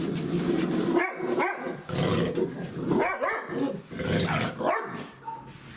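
A mother dog with 8-week-old puppies growls low and continuously, breaking into several sharp snarling barks and snaps as she disciplines them, loud and close with little pause.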